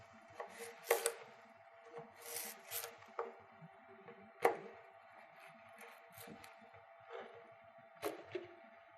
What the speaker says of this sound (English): then you can cut that into fine slices